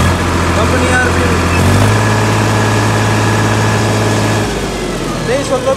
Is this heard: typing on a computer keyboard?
no